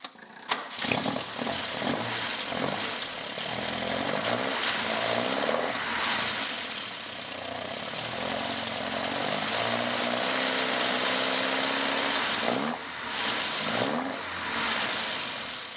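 An Alfa Romeo Spider engine idling close by, a steady, loud mechanical drone with a throbbing low pulse and a slight rise in revs, running continuously throughout.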